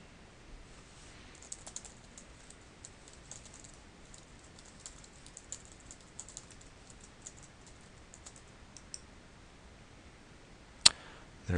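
Soft typing on a computer keyboard as an email address and password are entered, light scattered key taps at a quiet level with one sharper click near the end.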